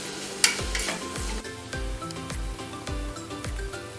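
Grated bottle gourd fries for halva while being stirred steadily, a continuous sizzle broken by regular low thumping spoon strokes about every half second, close and without speech.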